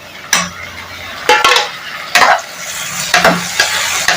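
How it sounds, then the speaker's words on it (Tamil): A large chopped tomato goes into a frying pan of brinjal gravy. Several sharp clatters of a spoon against the pan cut through a continuous sizzle. "இப்போ கட் பண்ணி வச்சிருக்கிற இந்த ஒரு பெரிய தக்காளியை போட்டுக்கிறேன்"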